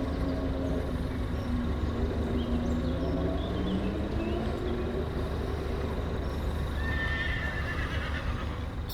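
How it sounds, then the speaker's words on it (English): Horses being trained near a canal towpath whinny repeatedly over a loud, continuous rumble, their high wavering calls rising and falling across the clip. "Someone looks like they're training horses over the back there."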